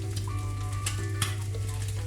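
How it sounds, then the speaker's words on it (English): An egg fries in a pan for a steak sandwich, a continuous close sizzle with a low steady hum beneath and a couple of brief louder crackling bursts, with no talk. "The egg is almost done."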